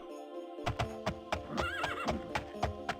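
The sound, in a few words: horse neighing in the video game Daggerfall Unity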